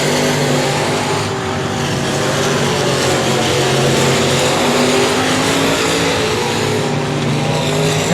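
Street stock race cars at I-37 Speedway roar steadily around the oval, a dense continuous engine drone with shifting pitch, loud and unbroken, no voices on top.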